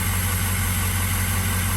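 Ford Excursion engine running steadily after repair, a constant loud idling rumble with strong low hum and no breaks.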